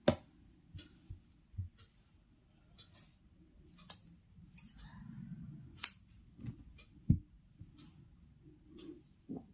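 Scissors snip through crochet yarn after a chain is finished on a small winter dress, giving a few soft, close clicks and snips scattered among quiet handling noises, with no talking.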